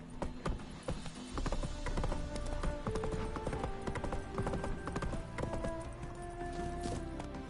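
Roach, Geralt's horse in The Witcher 3, clip-clops in a steady rhythm of hoof beats, loud and close, over a busy game backdrop of music and ambience.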